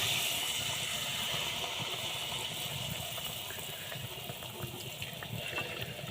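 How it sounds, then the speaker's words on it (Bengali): Ripe mango poa pitha batter drops into hot oil and fries with a dense, steady sizzle and bubbling hiss that stays loud and close, easing slightly toward the end. "তেলটা কিন্তু গরম হয়ে গেছে এবার একটা পিঠা দিয়ে দেবো"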